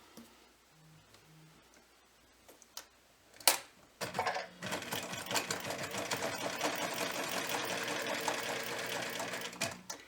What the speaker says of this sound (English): And I'm going to stitch around, but I'm going to leave the bottom open.